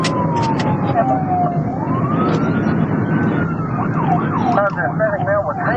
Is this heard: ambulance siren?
yes